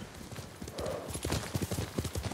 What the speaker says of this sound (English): I think we should call the horse for that.